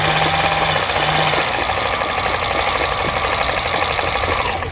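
A Brother heavy-duty sewing machine with a foot pedal stitches, a loud, close, continuous rapid mechanical whirring and clatter throughout with no talking.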